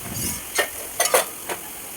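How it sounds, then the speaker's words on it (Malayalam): Onion, ginger, chilli and garlic sautéing in a pan, a steady close sizzle broken by several short scraping stirs of a spoon. "സവാള കൂടെ അതിലേക്ക് ഇട്ട് ഒന്ന് വഴറ്റണം"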